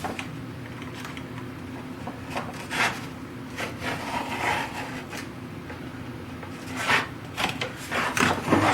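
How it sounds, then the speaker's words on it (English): A utility knife scores and cuts wood along a pencil line on a woodworking piece, a tambour-front machinist chest, making close, repeated scraping and rasping strokes of varying strength, with no voices. "I'm going to take a utility knife and I'm going to cut right"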